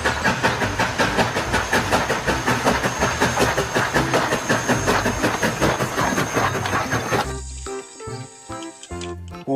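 A toy steam locomotive pulling cargo wagons runs with a fast, regular clicking chug and a hiss, loud and close, then cuts to a brief stretch of tonal toy sounds near the end.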